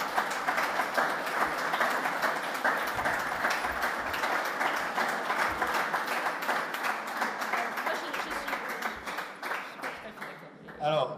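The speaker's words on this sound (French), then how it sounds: "Alors, je crois qu'on peut applaudir de nouveau" A room of people at a French right-wing political forum round-table claps steadily, producing a dense, sustained wash of applause that carries through nearly the whole stretch and fades slightly toward the end.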